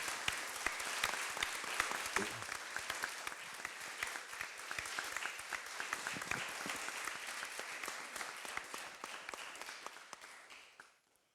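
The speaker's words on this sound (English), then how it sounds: "maybe a round of applause for Tommie." An audience at a tribute event applauds for Tommie Gorman, a long, dense stretch of steady clapping heard from within the hall that gradually thins and fades away at the end.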